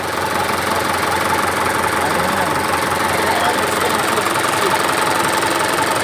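Mitsubishi Canter truck with a 4M51 engine running after a knocking repair, a loud, steady close-up idle with a dense rumble and an even rhythmic tick throughout.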